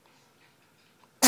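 A baby gives one short, sharp sneeze close by at the very end, after near silence with faint background murmur.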